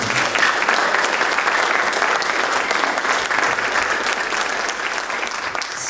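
A community conversation audience gives a sustained round of applause at the close of the evening, dense continuous clapping, loud and even throughout.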